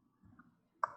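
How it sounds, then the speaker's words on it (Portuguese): A single Enter key pressed on a computer keyboard during Linux Debian 10 network configuration, a faint soft thud followed by one sharp, close click near the end, in otherwise quiet surroundings. "executar o Enter aqui"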